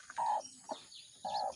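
Soft, high chirps from chicks in short bursts, two clear calls with quieter peeps between, fairly close in a quiet setting.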